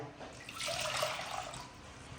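Water pours in a soft, steady stream into a pot for a couple of seconds, quiet and close, with no voices, while making ragi flour kali.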